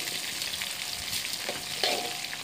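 Onion and chili frying in a pan for a chayote (chow chow) kootu, a dense crackling sizzle with scattered spatter pops and stirring scrapes, close-up and unbroken, no voices.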